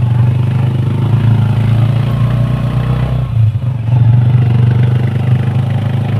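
A motorcycle engine runs steadily close by with a low droning hum and a brief dip in the middle before it resumes, loud and alone with no speech.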